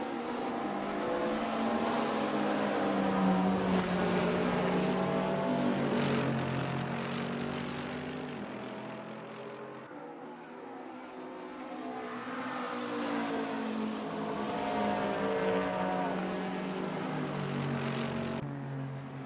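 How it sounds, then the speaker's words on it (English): A Porsche race car laps the Spa circuit, its engine droning loudly and continuously, the pitch climbing and falling in sweeps as it accelerates and changes gear. No one speaks. "John Ludden driving the Porsche."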